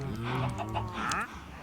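Chickens cluck steadily in the Minecraft farm, several overlapping bird calls close by with a faint murmur underneath.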